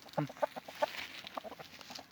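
Hens cluck in a few short bursts at the start, then softer scattered clucks and rustling follow, fairly close by, as they are put together with an Asil rooster.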